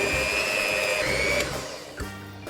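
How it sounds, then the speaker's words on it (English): An electric mixer whirs steadily through vegan ladyfinger batter dusted with flour, a close, continuous motor hum that cuts out partway and briefly restarts near the end, with no voices. "now we are ready to use the electric mixer"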